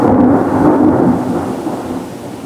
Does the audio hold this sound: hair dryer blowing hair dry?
no